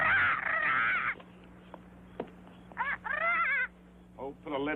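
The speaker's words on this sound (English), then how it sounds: "put a lid on that bird" Harsh crow-like caws from a bird in an old public-domain horror film, several loud rasping calls in bursts with quieter gaps, over a low steady hum.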